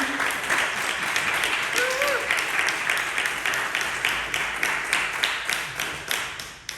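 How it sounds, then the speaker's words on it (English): Sustained applause from an audience, steady dense clapping that carries on for several seconds, with some faint voices mixed in. "Let's give them a hand of applause"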